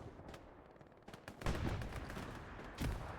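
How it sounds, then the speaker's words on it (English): Distant gunfire crackles during a Seasonal 2026 Hell Let Loose-style match on Mortain, Oceanic Ocelots versus Glows, with scattered shots and a couple of heavier bursts around the midpoint and near the end, no talk. "There's some shooting going on here."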